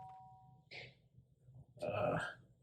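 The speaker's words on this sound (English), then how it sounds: "The sharp sound of the doorbell pierced my sleepy haze and pulled me back into the real world." A two-note doorbell ding-dong chimes in the video game Danganronpa, a brief electronic tone followed by a brighter sustained chime, faint and alone with a low background hum.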